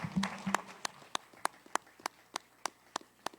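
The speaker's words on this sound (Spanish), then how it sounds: "Un aplauso para él." An audience at a national huayno composers' festival in Ayacucho claps for a jury member in a faint, even rhythm of sharp single claps, roughly three per second, after a brief murmur at the start.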